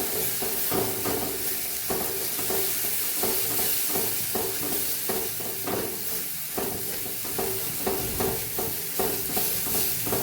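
Gram flour is sautéed in a pan with okra masala, giving a constant hissing sizzle. A spatula scrapes and stirs it in a brisk, repeated rhythm, close by, for the full stretch with no talking.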